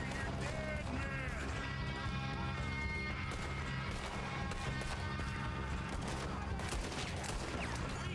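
Gunfire in the open-world western game Red Dead Redemption 2, a dense mix of shots and busy game sound running the whole time, with hoofbeats and other action layered in over a continuous loud bed.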